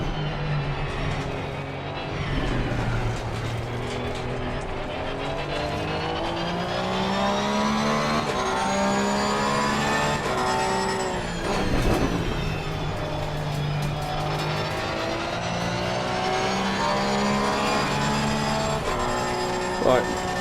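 Race car engine in Assetto Corsa Competizione, droning steadily at high revs with rising and falling pitch through gear shifts on a flying lap, loud and continuous throughout.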